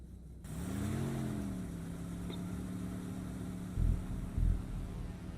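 A car engine in the game Stories Untold runs with a low steady hum that swells and sweeps in pitch early on, followed by two dull thumps near the end.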